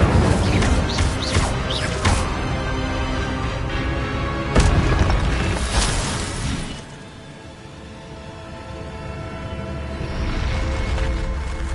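In Hogwarts Legacy, a fire spell is cast repeatedly in a quick burst of sharp booms and crashing impacts. The blasts then fade into a lower, rumbling lull before the noise swells again.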